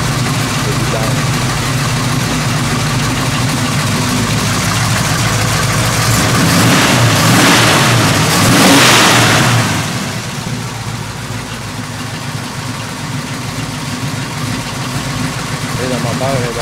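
An AMC 360 V8 rated at 450 horsepower runs loud and close, a lumpy idle that swells into a rev for a few seconds before settling back, with talk over it.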